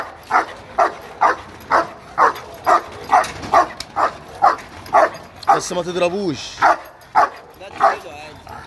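A fierce guard dog at a Friday market for guard dogs barks loudly and close by, about a dozen deep barks at a steady, regular pace, while someone speaks over the middle stretch.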